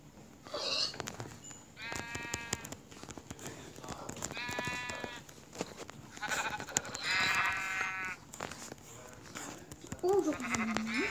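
Sheep bleat repeatedly in short, nasal calls with a synthetic game-like quality, several bursts spaced over background sound, close and fairly loud.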